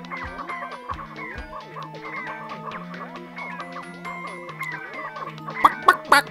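Chickens cluck in a henhouse area of the Ratchet and Clank video game, rhythmic repeated calls over a croaking, music-like game background, with a few sharper louder squawks near the end.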